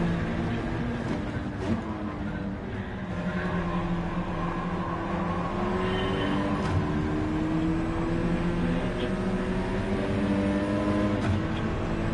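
A Peugeot RCZ Gr3 Road Car engine in Gran Turismo 7 racing at Sant Croix on hard tyres, a steady droning engine note with shifting revs and faint passing cars, continuous and fairly loud.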